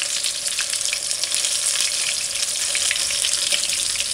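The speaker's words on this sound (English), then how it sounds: "when you hear the frying getting less, like it's the simmering" Sliced king fish frying in a pan of hot oil, giving a steady, dense sizzle with fine crackles throughout, close and fairly loud, with no voices.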